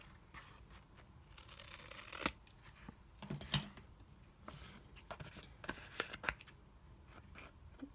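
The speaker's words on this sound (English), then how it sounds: "Now I will trim these corners." Scissors snip and trim the corners of a handmade paper envelope, a run of crisp close cuts and papery rustles with a few sharper clips between softer handling sounds.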